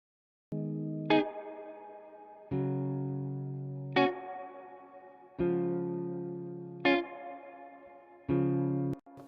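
Dark space echo effect from the Waves Magma Springs plugin applied to a music track, with four sustained, chorused tones each starting on a bright attack, repeating roughly every one and a half seconds with echoing tails and no talk.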